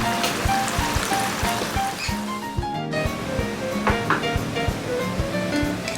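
A pot of pasta water on a stove comes to a rolling boil while vongole bianco, garlic clam pasta, is being cooked, giving a steady, close bubbling and churning that runs without pause.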